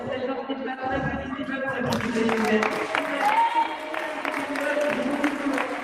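Audience at a roller derby match applauding the volunteers, a steady spread of clapping from the stands with a commentator talking over it.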